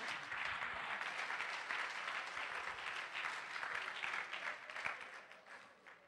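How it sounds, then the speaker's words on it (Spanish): A church congregation claps as an offering to the Lord, a steady wash of many hands applauding at moderate distance, tapering off at the end. "Dele ofrenda de palmas al Señor."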